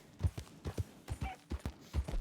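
A horse in the Red Dead Redemption 2 video game walks with steady, fairly close hoof clip-clops, about two to three per second and moderately quiet, with no talking over them.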